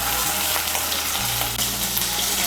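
Ginger paste and green chili paste fry in hot oil for a Bengali potato and pointed gourd dalna, giving a steady, loud, close sizzle with faint stirring. No one speaks.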